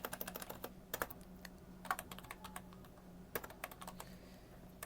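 A computer keyboard is typed on in quick bursts of crisp key taps with short pauses between, as a web address is entered, quiet and close with no talking.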